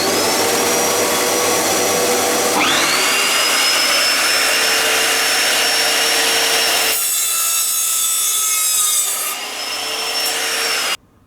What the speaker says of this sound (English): The first thing I'm going to cut is wood with nails.